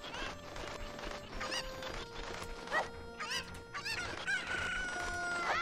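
Cuccos in Zelda Ocarina of Time squawk and crow in a flurry of shrill, rising chicken cries and clucks, repeated in quick bursts over a few seconds with game sounds underneath.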